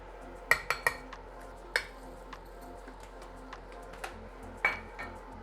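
A metal utensil clinks sharply against a cooking pot several times while oats are added for a pumpkin oatmeal breakfast, with soft scraping and stirring between the scattered taps.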